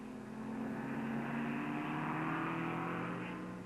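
A 1959 Aston Martin DBR race car engine drones steadily during the Tourist Trophy race, a sustained loud roar that swells and holds as the car passes, with no voices over it.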